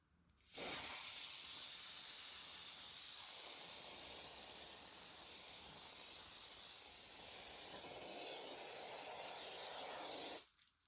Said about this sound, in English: Now let's spray it in both pans.